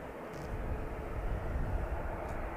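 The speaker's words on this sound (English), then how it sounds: "plane over there because I can hear it" Airplane passing over Manchester Airport, a steady broad engine roar holding at moderate level throughout, distant-to-mid range with no talk over it.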